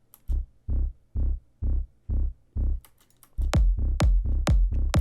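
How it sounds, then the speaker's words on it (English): Electronic music drop with the mids removed and distortion or saturation on the lows: heavy pulsing bass hits in a steady rhythm, then denser distorted bass thumps with sharp sweeping synth accents, loud and without talking. "I just took out the mids and added some distortion to the lows"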